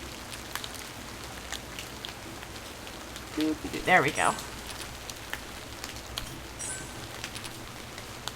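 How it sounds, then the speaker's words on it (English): Rain falls outside a mostly shut window as a steady, soft hiss through the whole stretch, while a person speaks briefly midway. "Also, the fucking rain."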